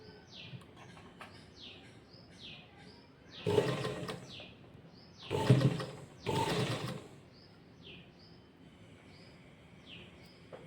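A sewing machine stitches loops on a sleeve in three loud whirring bursts of close, rapid stitching, separated by quiet gaps filled with faint chirping and small handling sounds.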